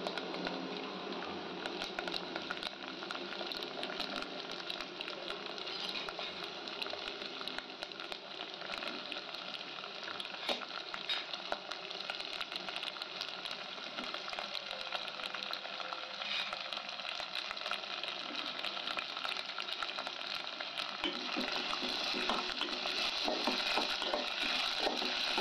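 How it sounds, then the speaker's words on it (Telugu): Onions frying in a pan for a fenugreek curry, a steady, dense crackling sizzle that continues evenly at close range throughout, without talk. "దోరగా వేయించుకొని"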